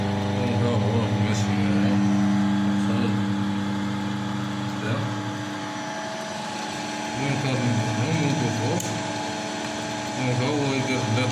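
An electric motor in an automation setup is switched on and runs with a steady, fairly loud hum that holds its pitch for about eleven seconds, with some background noise but no clear speech.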